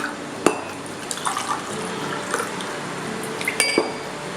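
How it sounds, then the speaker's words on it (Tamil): Water is poured from a jug into two glasses for Kerala kulukki sarbath, a running splash and gurgle with sharp clinks of glass scattered throughout, close and fairly loud. "அதில் வந்து பாதி அளவு வர தண்ணி விடலாம்."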